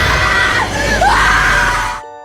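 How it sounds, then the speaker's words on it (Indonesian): A woman screams in terror in a horror film, one long loud shriek that rises and wavers for about two seconds, then cuts off abruptly. "Sadie pun sangat ketakutan dan berteriak."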